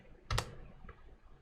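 A single Enter key press on a computer keyboard, one sharp close click followed by a fainter second tap, alone in a quiet room.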